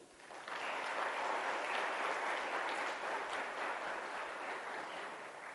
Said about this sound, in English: So, a big clap to him.